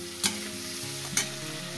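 Onions with green chili and garlic sizzle steadily in a pan, with two sharp stirring scrapes cutting through the continuous frying hiss.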